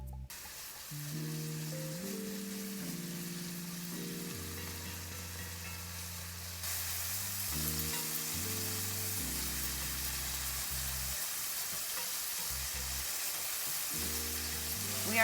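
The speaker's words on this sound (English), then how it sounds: "We are going to add our garlic now that we have a nice sizzle." Steady broadband sizzle of onions frying in a pan, growing louder partway through, with a low tonal hum and shifting background tones underneath.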